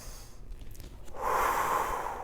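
Close breathing during an intermediate classical Pilates exercise: soft, uneven airflow at first, then a long, strong breathy inhale that fills the second half, with no talk over it.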